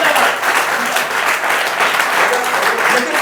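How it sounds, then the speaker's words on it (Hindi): Applause from a live audience at a Hindi poetry recital, a dense, loud, sustained wash of clapping with no talk over it. "अगली दो पंक्तियों पर जोरदार तालियां मांगता हूं, अभी तो अपने आप बजाई"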